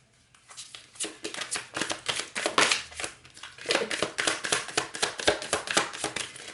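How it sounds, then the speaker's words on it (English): A tarot card deck being shuffled by hand, a dense run of rapid riffling, flicking card sounds up close, alone with no talking over it. "This deck is shuffling in a very interesting way as well"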